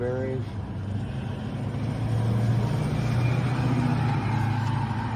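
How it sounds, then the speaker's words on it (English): Heavy traffic rumbles past in a steady low roar, building slightly as a vehicle draws nearer, with a brief tonal hum near the start. "Noisy trucks"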